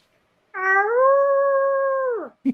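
A voice imitates a wolf howl in one long, steady, clear tone lasting nearly two seconds, then falls off at the end. A short knock follows in an otherwise quiet room.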